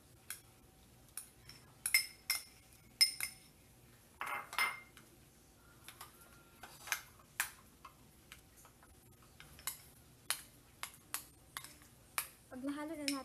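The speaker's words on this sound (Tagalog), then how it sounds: "ihahalo na natin ngayon yung ating garlic, yung ating butter sa garlic" Butter and garlic being mixed in a bowl with a utensil, giving a scattered run of light clinks and taps against the dish, quiet and close, with brief scraping between strikes and no talk.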